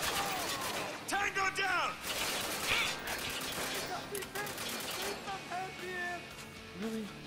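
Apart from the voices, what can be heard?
shotgun gunfire in Spec Ops: The Line video game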